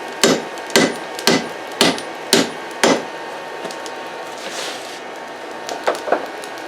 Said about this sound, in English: first thing I do is just open it up with the Hardy tool